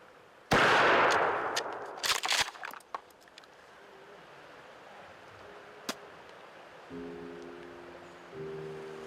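A loud gunshot aimed at a bear cracks out near the start, then a quick cluster of sharp shots follows about a second later. A lone faint crack comes after that, and a low engine-like hum fills the end.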